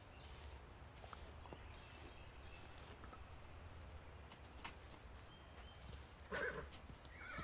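Horse riding in the video game Ranch of Rivershine: soft rhythmic hoof clip-clops at a steady gait, then a brief whinny near the end, all fairly quiet with no talking.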